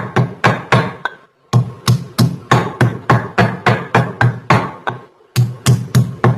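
Soaked almonds and cardamom are ground by hand, making a steady run of close, hard knocks and thuds, with two brief pauses between the strokes.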